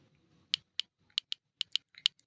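Crisp, close keystrokes on a computer keyboard as a name is typed, about nine separate clicks in an uneven rhythm against a near-silent background.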